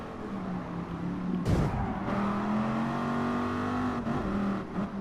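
Ford GT40 engine in GT Sport humming at steady revs, with a sharp bump near the start and a few quick knocks later, pitch climbing gently as it pulls.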